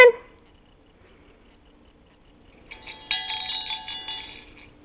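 A mobile phone rings indoors with a bright, repeating electronic ringtone that starts about halfway through and keeps going, fairly close and moderately loud, after a soft early thump.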